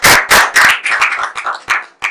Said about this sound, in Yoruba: Ẹ pàtẹ́wọ́ fún.